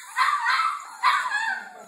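A puppy gives two short, high yips about a second apart, close and fairly loud, with no talking between them.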